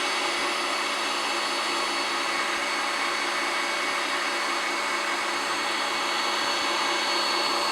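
Electric mixer whipping meringue for pistachio macarons, a steady loud high-pitched whir holding at constant speed throughout with no talking.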